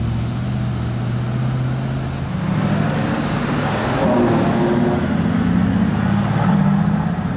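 A Ferrari Pista V8 engine and exhaust rumble continuously, a dense low growl that builds in loudness toward the end, with broadband road noise and no talk.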